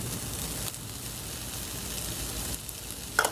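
Vegetables for quesadillas sauté in a hot pan, producing a soft, even sizzle throughout, with a couple of quick stirring shifts and a small clatter near the end; quiet and unaccompanied by talk.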